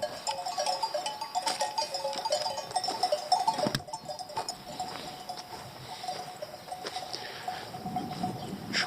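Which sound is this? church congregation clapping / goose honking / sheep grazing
sheep grazing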